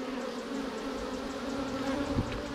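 A steady, droning buzz of many honey bees swarming close around, continuous and fairly loud, with no speech.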